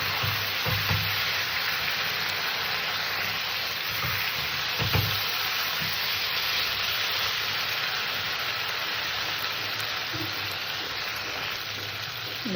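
Water poured into a hot pan of browned chicken sets off a loud, continuous hiss and sizzle that stays steady throughout, with a few soft knocks of stirring underneath.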